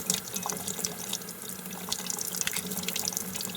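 Tap water runs steadily over a dental impression model in a sink, a continuous close splashing wash with small spatter variations throughout.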